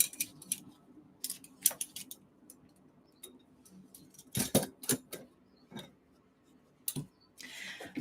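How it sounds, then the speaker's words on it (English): A small pair of scissors from a set of fish tank decoration tools is handled up close, producing scattered light metallic ticks and clicks with a few louder snaps and a short rustle near the end. "it's a pair of fucking scissors."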